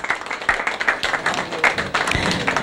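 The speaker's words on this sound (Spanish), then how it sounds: "Un aplauso una vez más para mi gente" Audience applause for performing artists at an evening community show, a dense steady wash of many hands clapping with a few sharper nearby claps standing out.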